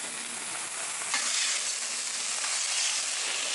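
Onions and peppers fry on a hot griddle with a steady, broad sizzle. It grows a little louder partway through and keeps going, close by, with no voices.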